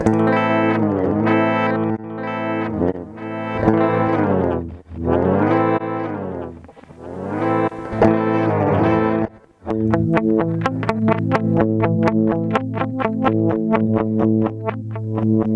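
Distorted electric guitar notes swell in backwards through a Boss DD-7 delay pedal in reverse mode, followed by a stretch of choppy, rhythmic reversed repeats, loud and continuous with no talking.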